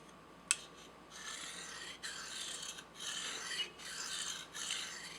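Rasping strokes of a serrated knife edge being sharpened, a few separate passes each about a second long with short pauses between, close and moderately quiet, no talking.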